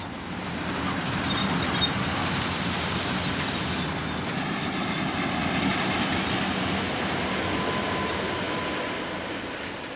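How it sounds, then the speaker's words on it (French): Trains at Luino station in Italy on the Italian-Swiss transit line, where locomotives are changed: a continuous rolling rumble of rail cars passing close by, with a brief hiss partway through and no talk. "Ici, à Luino, sur territoire italien, il faut encore arrêter les trains pour permettre un changement de locomotive."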